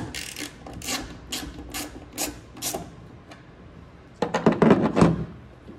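A loosened tail light on a 2009-2014 Ford F-150 is worked free with repeated rasping, rubbing scrapes of plastic against the body, followed by a louder burst of crackling and clunking as the tail light pulls out, close and alone.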